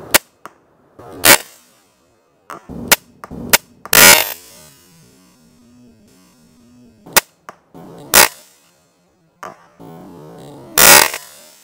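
Bat Reverse Pistol Crossbow firing arrows tipped with broadheads, a series of sharp, loud snaps spaced irregularly over several seconds, some followed by brief rattling, with near silence in between.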